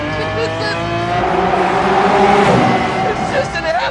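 A Lamborghini Aventador SV roars hard under launch-control acceleration, with loud sustained engine noise and tire squeal while an excited voice shouts over it.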